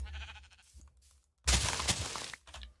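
A sheep bleats in the video game Skyrim, one loud, rough bleat after a quieter stretch of game sound, close and clear with no talk over it.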